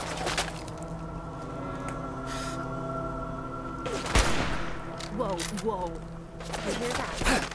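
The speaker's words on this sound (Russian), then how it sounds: "Ты так и слышишь, по нам стреляет" Enemies fire on the player in Fallout 4. A sharp, heavy shot cracks out midway over a steady hum of game ambience, with scattered smaller shots and someone talking in Russian around it.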